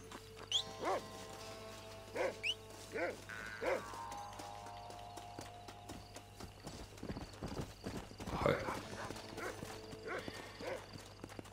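Horse hooves clip-clop in the video game Red Dead Redemption, several separate hoof beats with mechanical ratcheting and gear sounds, a whinny, and a fuller burst of hooves near the end, all fairly quiet.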